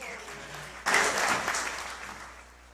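An audience at the Chico Mendes award ceremony breaks into applause after a short stretch of speech, the clapping loud at first and then tapering off over a couple of seconds.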